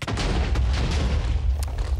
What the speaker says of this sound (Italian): Pensavo di dover premere un altro tasto per sparare Ok e, e speravo non facesse esplodere così tanto